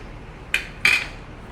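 Mixed nuts tipped into a cooking pot make two short, bright clinks close by, one after another, with quiet in between.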